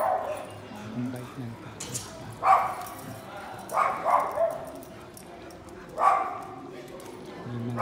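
A dog barks in short bursts, several separate yaps spaced a second or two apart, moderately close, with a person talking over and between them.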